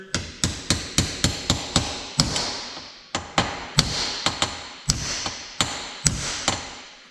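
A bearing driven into a snowmobile part (800 Axys Assault) with repeated sharp hammer taps, about fifteen close, loud metallic strikes in a steady rhythm with brief pauses, no talking.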